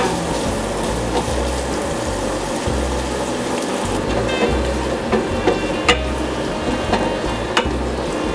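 Bacon frying in a pan for spaghetti carbonara gives a steady crackling sizzle, with soft rhythmic stirring or scraping pulses underneath and a few sharper pops toward the end.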